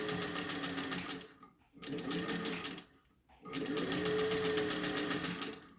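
Up close, a sewing machine back stitches a fabric face mask in three steady, whirring bursts. Each burst is separated by a brief pause as the stitching direction changes.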